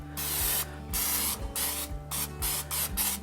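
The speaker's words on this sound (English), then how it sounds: "We're gonna give it a little spray." Several short bursts of cooking spray hiss close up into a casserole dish, separated by brief pauses, with a faint steady hum underneath.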